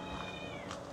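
Caged cats in Phuket, Thailand, give a faint, drawn-out meow with a second brief cry near the end, set against a soft background of ambient noise.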